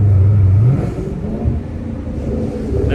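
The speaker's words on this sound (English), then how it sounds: "That downshift sounds crazy." A Dodge Charger 392 Scat Pack engine drops off from a rev into a downshift, with a low rumbling exhaust and a brief pop or two, heard close by.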